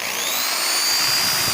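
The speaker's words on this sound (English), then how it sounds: "Here's a very small drill bit first." A small 1/16-inch bit drills into wood for a wooden Christmas tree craft, giving a thin, steady high-pitched motor whine at moderate volume, alone.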